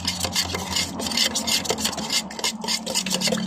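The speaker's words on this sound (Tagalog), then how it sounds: "Kailangan haluin kasi." A thick homemade wood stain mixture being stirred gives close, continuous rubbing and scraping strokes in an uneven rhythm, with no talk over it.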